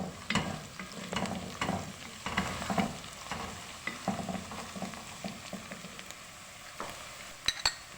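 Ginger and garlic are stirred into a pan of frying vegetable pulao, with a soft steady sizzle under repeated scraping strokes of a spoon against the pot, close and fairly quiet, no talk.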